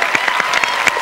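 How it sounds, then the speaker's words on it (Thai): A studio audience on a Thai variety game show claps in a short, dense burst of applause, close and steady for about a second. "ปรบมือให้ซานี่หน่อยนะคะ"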